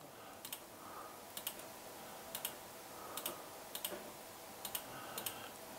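Password being typed on a computer keyboard, heard as quiet, crisp key clicks in short bursts of two or three strokes spaced about a second apart over a steady background hiss.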